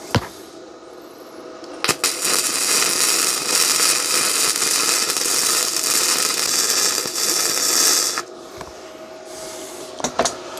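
A Bestarc stick welder burns a steady arc on 1/8 inch steel at 60 amps, a continuous crackling sizzle lasting about six seconds between sharp clicks at the start and end.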